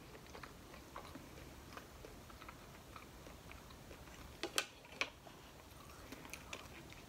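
Cheese fries from Texas Roadhouse are chewed close to the mic, making soft, steady mouth sounds with a couple of sharper bites partway through, all quiet and with no talking.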